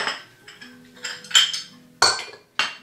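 Bowls, utensils and dishes clink and knock on a kitchen counter while carrot cake ingredients are set out, with about six sharp, separate clatters spaced through the moment and no talking.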